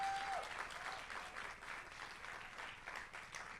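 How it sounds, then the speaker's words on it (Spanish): A church congregation applauds at a Sunday prayer service, a steady, moderately distant wash of clapping that holds evenly throughout without any voices over it. "Los que han orado pueden aplaudir."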